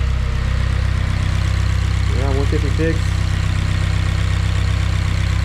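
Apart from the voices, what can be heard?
car engine idling unevenly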